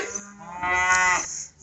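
A single cow on a farm lets out one loud, drawn-out moo, close by, swelling in the middle and tapering off, with faint crickets in the background.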